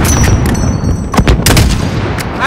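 Enemy soldiers fire at close range in the Call of Duty Modern Warfare mission Highway of Death, loud rapid gunshot bursts cracking over a heavy, constant roar of battle noise.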